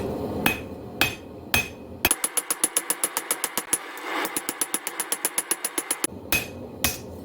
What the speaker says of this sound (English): By hammering on both sides, I'll flatten out all these hammer marks